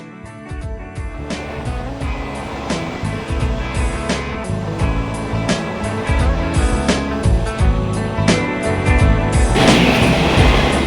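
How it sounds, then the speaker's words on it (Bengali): A train pulls out of Dakshineswar station and heads over the Ganges toward Rampurhat, giving a loud, continuous rumble with rhythmic wheel clatter that builds steadily toward the end. "দক্ষিণেশ্বর ছেড়ে ট্রেন ছুটে চলবে রামপুরহাটের উদ্দেশ্যে"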